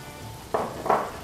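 Chopped onion and vegetables go into hot butter and oil and sizzle, with two quick bursts of frying over a quiet hiss.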